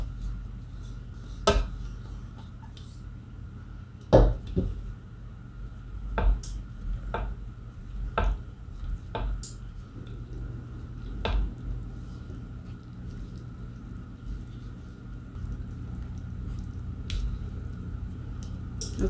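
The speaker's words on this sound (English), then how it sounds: "Now I'm going to take my dry ingredients and fold them into my wet ingredients." Dry ingredients are folded into wet batter for keto lemon zucchini bread, giving soft, wet squishing strokes and occasional sharp clicks of a utensil against a bowl, spaced irregularly over a quiet room.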